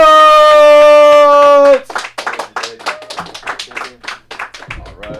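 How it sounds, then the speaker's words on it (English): At a comedy club, a sustained horn-like tone cuts off, then close, sharp handclaps follow in a quick, uneven run, loud and mostly alone. "Clap it up, man."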